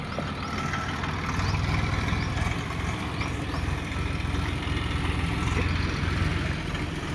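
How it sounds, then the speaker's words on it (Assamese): A tractor pulls up and its diesel engine settles into a steady idle, a low rumbling chug that holds at an even level throughout with no voices. "ট্ৰেক্টৰ অহালৈ গাড়ী আহি গ'ল"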